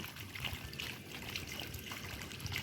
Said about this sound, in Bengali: দেখলেই বুঝবেন এই জল ছিটে দিচ্ছে মাছগুলি বাঁচানোর জন্য